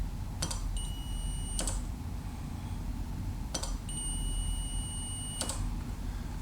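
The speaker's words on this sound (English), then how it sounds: "it beeps when the circuit is completed" A multimeter in continuity mode, testing a relay, gives two short, high electronic beeps about three seconds apart, each opening and closing with a click over a steady low hum.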